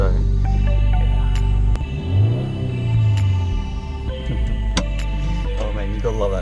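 A 2014 Subaru WRX engine drones steadily while driving, with a low rumble that rises and falls in pitch under cabin noise and scattered clicks.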